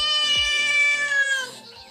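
A cat gives one drawn-out, loud, close meow that slides and fades over about two seconds, with no talk over it.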